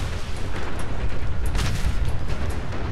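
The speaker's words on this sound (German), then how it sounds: "Doppelte Explosion. Einmal, weil er ein Sentry-Bot war und einmal, weil er ein legendärer Roboter war." A legendary Sentry Bot blows up in Fallout 4 with a double explosion, heavy rumbling booms that roll on loudly for several seconds with no talk.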